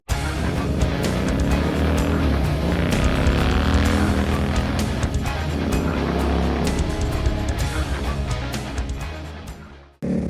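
Several motorcycles on a four-rider group ride, engines droning loud and steady with wind rumble throughout, the sound cutting off abruptly at the end.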